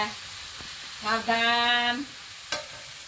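Chilli, coriander and cumin frying in a pan send up a steady soft sizzle, with a short spoken warning briefly over it and a sharp clatter near the end.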